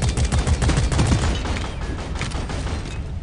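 Rapid gunfire in the video game Deep Rock Galactic, a loud, dense run of overlapping shots that is heaviest in the first second and a half, then continues a little thinner.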